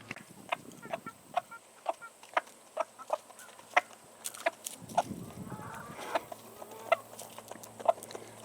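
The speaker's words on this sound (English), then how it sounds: "Number 2 is very loud when she gets off the nest." A hen getting off her nest of hatching eggs clucks loudly and repeatedly in a steady, insistent rhythm, close by, with soft rustling and faint background noise.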